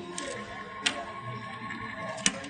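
A GoPower electric die-cutting machine feeds plates through on its own with a steady, low mechanical whir. Two sharp clicks stand out clearly above it.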